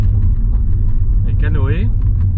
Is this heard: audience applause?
no